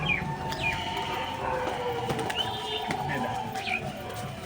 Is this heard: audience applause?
no